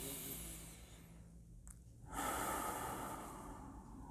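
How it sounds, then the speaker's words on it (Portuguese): A long, deep breath: a drawn-out inhale hiss, a brief pause, then a louder, steady airy exhale, close and alone with no talk. "Uma respiração profunda."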